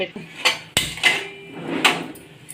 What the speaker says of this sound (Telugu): గిన్నె అయితే పెట్టేసుకున్నాం కదా